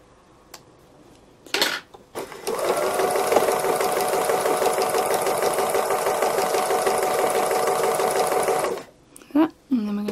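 A sewing machine stitching free motion embroidery on a cow design runs steadily and close for several seconds with a fast rattling whir, framed by brief clicks and handling sounds before and after.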